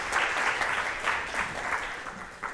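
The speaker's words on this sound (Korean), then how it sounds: "큰 박수로 맞이해 주시기 바랍니다" Audience applause at a Korean security conference session, a steady wash of clapping from a seated crowd welcoming a speaker onstage, fairly even in level for a couple of seconds.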